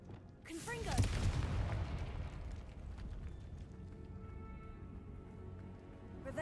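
A Confringo blasting spell explodes in the Hogwarts Legacy video game, a sharp blast near the start that swells into a long rumbling roar and slowly fades beneath steady game ambience.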